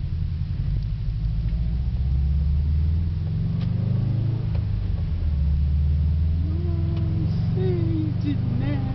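Cars drive on snow-covered roads during a blizzard in Stamford, a continuous low engine rumble with a rising rev near the end, heard close under scattered voices.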